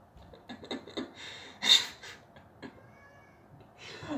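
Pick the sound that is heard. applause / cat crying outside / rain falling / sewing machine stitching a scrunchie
cat crying outside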